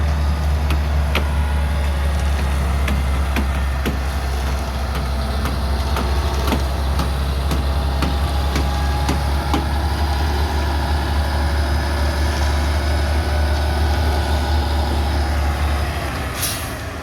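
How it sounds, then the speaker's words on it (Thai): A concrete mixer truck idles at a house construction site while cement pours, a heavy low engine rumble running steadily throughout with scattered clanks and ticks layered above, plus a brief hiss near the end. "รถปูนนะฮะเทปูนนะครับ"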